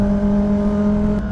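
A Kawasaki ZX-10 motorcycle engine holds a steady, loud, close idle-to-rev drone with a strong sustained hum, heard alone for about a second.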